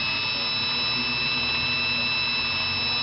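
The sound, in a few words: vintage Singer 500A sewing machine winding a bobbin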